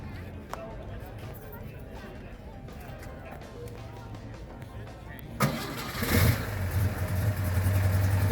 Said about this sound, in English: Oh, listen to her perk here. Remember, this is a 6-cylinder. That sounds pretty good, huh?